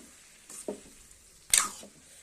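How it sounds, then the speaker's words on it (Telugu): Tomatoes tipped into a pan of curry frying on a home stove, giving two short, faint bursts of sizzle and splatter over quiet background. "చూడండి టమాటా అయితే వేస్తున్నాను"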